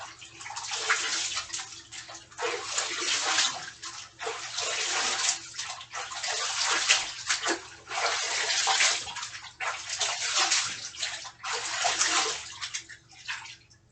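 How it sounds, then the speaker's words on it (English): Water splashes and sloshes as a person is immersed in a ritual bath of holy water, in steady, fairly close bursts that continue throughout with no talking. "holy, sacred, and divine water, which I am immersed in"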